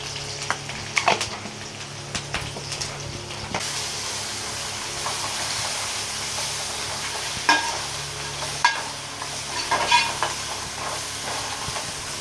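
Ginger and garlic sizzling in hot oil with browned onions in a pot for a chicken pulao, a steady crackling fry with a few sharper pops and stirring scrapes, close and without talk.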